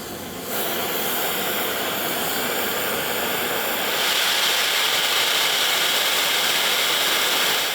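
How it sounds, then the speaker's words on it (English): An oxy-fuel cutting torch on a Beetle carriage preheats new steel plate for a KV-1S tank hull repair, giving a steady loud roaring hiss that swells brighter partway through, with no talking. "The first pass of heat that Bo is doing with the Beetle now is called the preheat."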